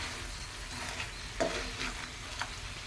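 Spoon stirring spicy crab masala in a pan, with a steady low sizzle and a few scraping strokes that stand out, continuous and close with no talking.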